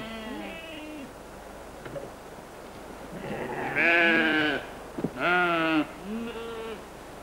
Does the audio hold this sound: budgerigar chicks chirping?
no